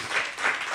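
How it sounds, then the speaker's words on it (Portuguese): Comedy show audience bursting into brief applause, a short dense patter of clapping heard on its own. "vou-vos pedir uma salva de palmas porque tiveram perante um campeão"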